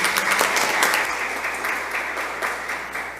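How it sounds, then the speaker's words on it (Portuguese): A crowd applauds at a 2023 Valinhos event marking the International Day of Black Latin American and Caribbean Women. The clapping is dense and continuous, with a few louder individual claps over it, and it eases slightly toward the end. "Uma salva de palmas, por favor."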